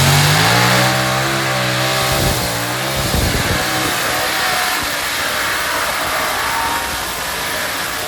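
A modified pulling tractor engine at a national championship pull revs hard and loud, its rising and falling harmonics rumbling continuously close by with no talk over it.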